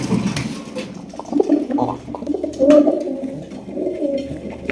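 A male Indian Kakji pigeon coos in low, throaty, repeated rolling calls, close by among other pigeons, with soft background rustling and no talking.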